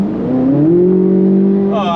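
A 2024 Corvette Z06 engine revs up loud and close, its tone climbing and then holding a steady, strained note for a couple of seconds.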